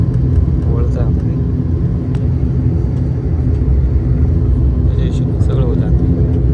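Cabin noise from an airplane in flight to Nashik, a loud, steady low rumble and engine roar that fills the whole stretch, with someone talking over it.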